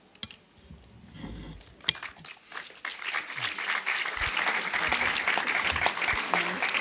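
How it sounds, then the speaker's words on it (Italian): Audience applause at a public event about truth and justice for Giulio Regeni, building from scattered claps into steady, sustained clapping that grows louder and fills the room, with no talk over it. "Questo, questo applauso eh, va alla moglie"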